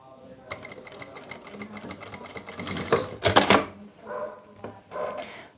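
A sewing machine stitches around the neckline of an A-line kurti in quick bursts of rapid needle chatter with short pauses between runs, close and clear, ending in a louder, faster stretch.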